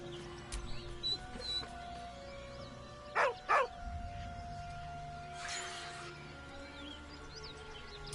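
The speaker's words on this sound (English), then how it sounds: "With a deep, heartbroken whine, the dog bows his head." A dog in Baldur's Gate 3 lets out a couple of short whining yelps in the middle, fairly close, with a low ambient hum and faint background sounds around them.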